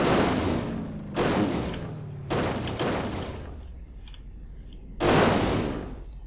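A car crashes in the BeamNG Drive driving game, landing three heavy crunching impacts at uneven intervals, each a loud broadband burst that fades into a rumbling tail.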